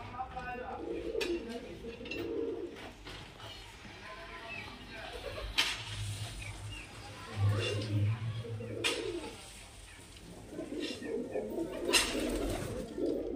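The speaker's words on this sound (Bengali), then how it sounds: "খুব সুন্দর কোয়ালিটির পায়রা এবং খুব সুন্দর গেট আপের পায়রা" Giribaz-type pigeons coo in low, repeated bursts, close by, while someone talks at length and occasional sharp clicks and knocks sound in between.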